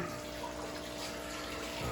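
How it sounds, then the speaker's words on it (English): Water pours down a pipe in a fish room overflow system, a dense continuous gushing and hissing flow, close and steady for the whole stretch, with no talking. "valve on, water flowing down the pipe"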